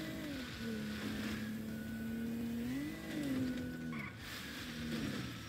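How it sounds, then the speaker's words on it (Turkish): Video game car with loud engine droning and revving, sliding through drifts on a muddy track as the pitch rises and falls, tire slip mixed in, continuous over several seconds with no talk. "Bugün bununla güzel drift yaparız."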